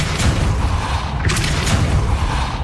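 Depulso spell effect cast in the video game Hogwarts Legacy: a deep, rumbling whoosh with bursts of blast, loud and continuous over a low booming bed.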